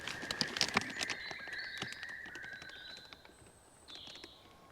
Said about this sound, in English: the bird noise in here is amazing